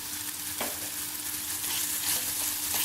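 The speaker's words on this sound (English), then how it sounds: "Now we are adding capsicum" Chopped capsicum added to a hot frying pan for paneer capsicum curry, a steady loud sizzle with stirring scrapes, a brief spatula knock near the start and no talking.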